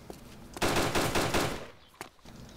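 A heavy machine gun firing in the video game DayZ, a loud close burst of rapid rhythmic shots lasting about a second, then a couple of softer trailing thumps.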